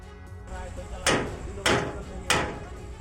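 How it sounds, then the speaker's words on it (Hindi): A hammer strikes a padlock on a freight train wagon during a fire, three loud, sharp metallic blows evenly spaced about half a second apart over steady background noise. "दे धनाधन हथौड़ा चलाया, काफी देर तक जद्दोजहद की, पसीना बहाया, तब भी ताला नहीं टूटा"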